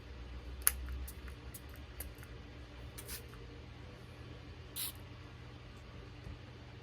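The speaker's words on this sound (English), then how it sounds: "spray hydrating rose mist all over your face and neck" A few quick, short bursts of fine rose facial mist spray, with a clear puff near the middle, over a quiet low background hum.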